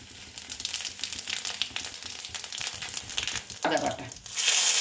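Cumin seeds, dry red chillies and a bay leaf sizzle steadily in hot oil in a kadai, a dense crackling hiss with a louder burst of spitting near the end.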